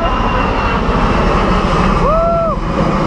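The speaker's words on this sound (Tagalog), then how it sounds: "Uy, may aeroplano yun, kita nyo? Kasi malapit sa airport." An airplane passes overhead near an airport, a loud steady engine roar dominating throughout, with a brief rising-falling whine partway through.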